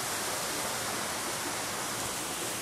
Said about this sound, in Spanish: Y cascadas que están detrás.